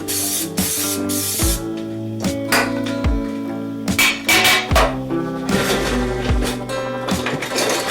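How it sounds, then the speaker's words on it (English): Several short bursts of cooking spray hiss close by, separated by brief pauses and light clinks of a metal muffin tin being handled. "just going to quickly spray the tin here."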